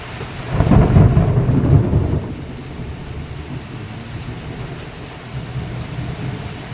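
Heavy rain with a loud rumble of thunder that swells early and fades into a steady wash of falling rain, close and unbroken with no voices.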